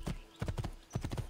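A horse gallops in Assassin's Creed II, quick groups of hoofbeats pounding in a steady rolling rhythm, close and clear with no talk.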